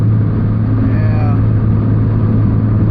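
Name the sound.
turbocharged Honda Civic engine revving during a pull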